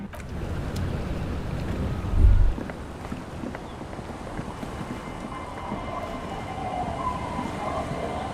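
Sea waves wash in a steady, broad ambient rumble in the video game Disco Elysium, with one brief louder low thud partway through and no voices.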